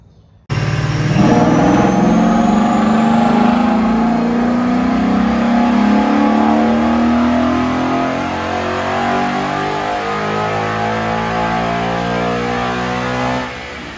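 A rebuilt Gen 2 Coyote V8 running E85 with cams and ported heads roars to life on a dyno and revs hard and loud, its pitch climbing steadily before easing slightly and holding near the end.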